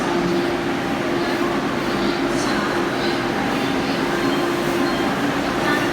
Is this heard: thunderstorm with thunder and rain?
no